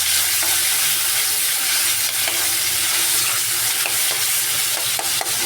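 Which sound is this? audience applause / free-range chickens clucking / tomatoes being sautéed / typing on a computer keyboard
tomatoes being sautéed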